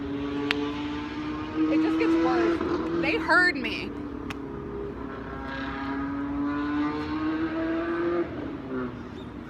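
A car engine revs outside, a steady low rumble rising and falling over about ten seconds beneath close, quiet speech.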